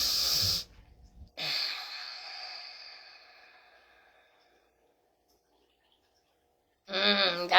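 Heavy breathing comes as a few loud, close, noisy breaths, one long exhale fading away into silence before another sharp breath at the end.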